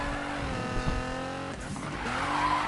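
A car drifting in Need for Speed 2013 gives a continuous loud engine drone with sustained tire squeal, the pitch wavering and dipping briefly midway before the squeal resumes.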